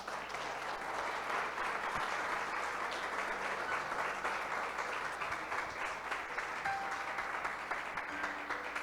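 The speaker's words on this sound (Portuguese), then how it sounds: "Você pode aplaudir Jesus?" A church audience applauds for about nine seconds, a dense, even wash of clapping at a moderate distance with no voices rising above it.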